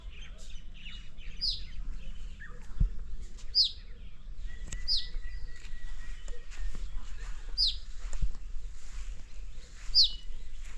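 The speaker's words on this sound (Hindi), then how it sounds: "एक छोटी सी चिड़िया" A small bird hops about in the grass on a hillside farm in Mukteshwar, Nainital, giving short, thin chirps at roughly regular intervals over quiet outdoor background, fairly faint and a little distant.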